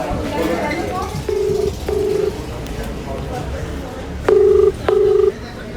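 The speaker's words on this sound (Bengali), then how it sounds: "রিং হচ্ছে" Four ringback tones on a phone line after dialling, two short pairs with a pause between, over a low background murmur; the call goes unanswered.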